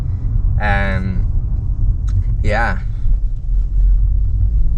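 An Audi RS5 engine gives a steady, loud low rumble throughout, while a person speaks briefly over it.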